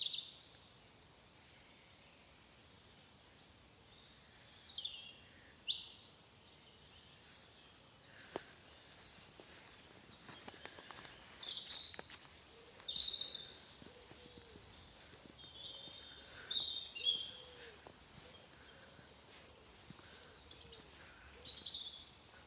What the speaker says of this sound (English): there's so many birds, so much wildlife singing to each other